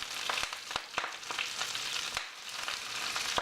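Wet greens hit a hot pan with golden-browned garlic and sizzle loudly and steadily. A few sharp clicks and stirs cut through the close, continuous hiss, and no one talks.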